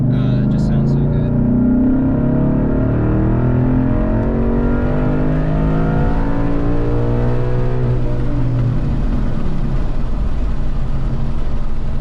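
A 2013 Ford Mustang BOSS 302 Laguna Seca Edition accelerates on the road, its loud V8 note climbing steadily in pitch for several seconds and then settling into a steady cruising drone.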